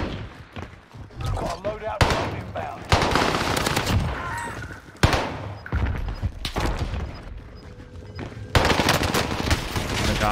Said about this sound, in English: The good thing about a burst gun is always the fact that you can shoot it.